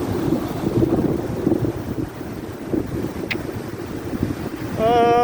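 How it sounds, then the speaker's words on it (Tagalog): Big ocean waves surge around a boat at sea, a steady rushing wash mixed with heavy wind buffeting the microphone, before a louder roar builds at the end. "Grabe naman yung alon na yan"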